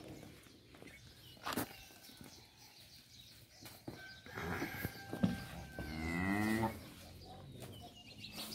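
Khillar cattle, cow and bull, at a farm: one drawn-out, rising moo rings out near the end over shuffling hooves, thuds and scattered animal noises, with no talk.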